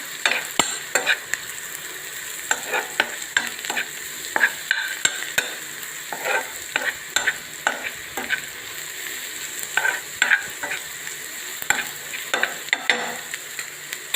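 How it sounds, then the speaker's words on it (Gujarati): Dried ground coriander and garam masala roast in a pan for paneer cheese rolls, giving a soft constant sizzle broken by repeated scraping stirs against the pan in an uneven rhythm. "સરસ શેકાય છે."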